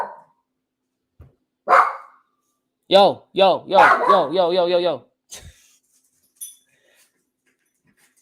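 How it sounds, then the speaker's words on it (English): Dog barking in short bursts, a few separate yaps followed by a rapid run of barks and a whimper, close and loud with a voice briefly in between. "Hey, dog, chill out, dog."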